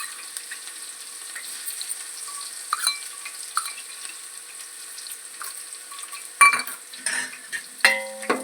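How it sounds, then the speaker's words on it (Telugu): Crushed garlic frying in a pan, a faint steady sizzle with scattered stirring scrapes, then clinks and a brief splash of running water toward the end. "తర్వాత ఎల్లిపాయ దంచి వేసుకోవాలి ఫ్రెండ్స్, టేస్ట్ వస్తుంది ఇందులో"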